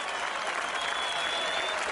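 An audience at a freestyle rap battle reaction event claps in a brief, dense burst of applause, steady and fairly distant, with no voices over it.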